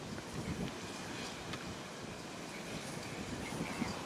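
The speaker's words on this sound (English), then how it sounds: "There is some decent wind here, so it could keep going." Wind gusting across the scene of a vegetation fire, a continuous rough rumble and hiss buffeting the microphone, fairly loud and steady without speech.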